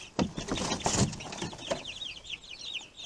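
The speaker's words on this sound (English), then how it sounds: "my little chickens, they're freaking out." Small chickens in a coop cluck and cheep nearby, a flurry of short clucks early, then a run of rapid high peeping chirps, fairly quiet and close.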